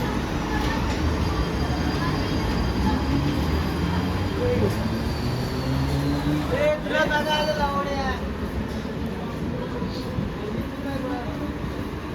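A Mumbai local train hums and rumbles at Badlapur station at night, its wheels squealing briefly partway through, while people talk and a platform announcement in Marathi and Hindi carries over the noise.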